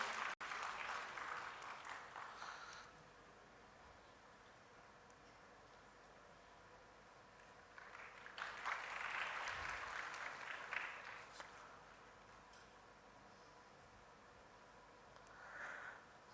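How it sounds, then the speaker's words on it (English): Applause from a workshop audience at a felicitation ceremony, rising in a few broad bursts of clapping separated by quieter gaps, with a short final flurry at the end; moderately faint and somewhat distant. "Please give a round of applause for this beautiful moment."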